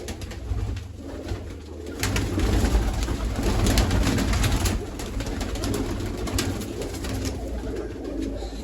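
Pigeons coo close by, soft throaty calls repeating over a murmuring background, with several birds layered together.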